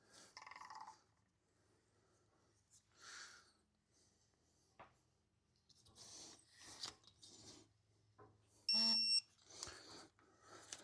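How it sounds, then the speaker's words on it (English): Tightening a hub nut on a Dana axle with a torque wrench gives faint, intermittent ratcheting and rasping bursts, ending in a short, sharp click, close up and quiet with pauses between strokes. "we're going to torque this to 50 foot-pounds"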